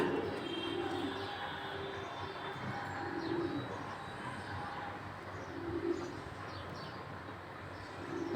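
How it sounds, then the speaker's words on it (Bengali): Several racing pigeons coo in low, repeated bursts over a steady outdoor background, with a few faint chirps mixed in. "খুবই ভালো মানের কবুতর"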